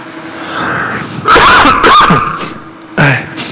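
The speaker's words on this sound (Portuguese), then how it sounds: "Perdoe minha tosse, meus irmãos, eu estou meio ruim." A few rough coughs break out close by, a cluster in the middle followed by one more short cough near the end, over a low background hum.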